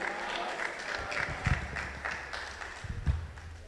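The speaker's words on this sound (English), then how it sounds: "Please, let's welcome him with a round of applause." A round of applause from the audience at the 10th National Rastafari Conference welcoming a speaker, a moderately loud, steady wash of clapping with a few heavier thumps near the microphone.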